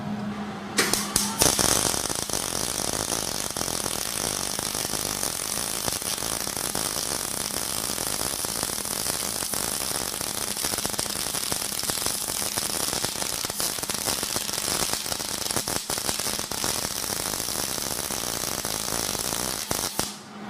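A MIG welding gun lays a weld bead, making a continuous loud, close crackling buzz that holds steady for about twenty seconds after a brief sputtering start, with no talking.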